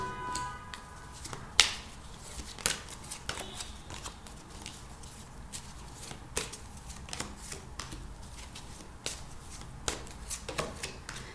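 Tarot cards being shuffled and drawn from a deck, soft riffling and flicking with scattered sharp card snaps, fairly quiet and close, continuing without talk.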